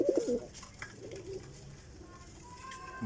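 Champion high-flying racing pigeons cooing close by, with a few soft throaty coos early on over a quiet background and a faint chirp near the end.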